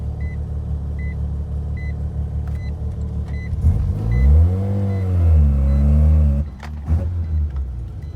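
Mazda RX7 with a rotary engine and a throttle that cuts out, heard from inside as a steady drone that swells into a loud rising rev under heavier acceleration before falling away, with a few soft chimes early on.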